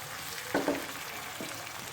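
Tomato and egg menemen being mixed in a frying pan, a low sizzle broken by two short spatula scrapes, quiet and without voices.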